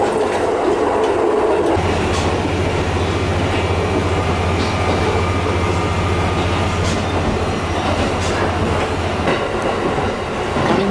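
A two-car JR Tokai Meisho Line train rolls steadily along the Kisei Main Line rails after leaving Matsusaka Station, a continuous low rumble with faint rhythmic clatter and a thin high whine above it.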